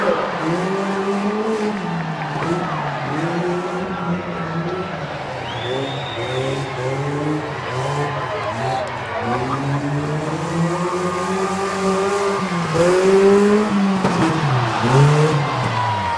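A 1995 GL tractor roars through a rough truck run at a Medina County event in 2014. Its engine revs loud and close in rising and falling surges, with an announcer talking over it.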